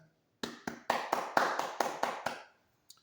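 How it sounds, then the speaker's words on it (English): Eight sharp hand claps land in a quick, slightly uneven series, loud and close, followed by one faint extra clap after a short pause. "let me hit them boys with the proper / fancy hand clap one more time"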